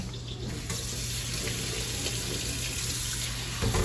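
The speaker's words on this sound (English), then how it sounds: "fill this bowl with cold water and ice" Steady running cold tap water pouring into a bowl, a continuous close hiss and splash with a faint low hum underneath.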